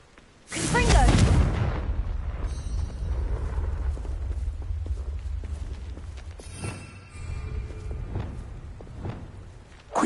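A Confringo fire spell blast in the Hogwarts Legacy video game: a sudden loud roaring burst that rumbles and crackles for several seconds, then fades, with a voice speaking over it.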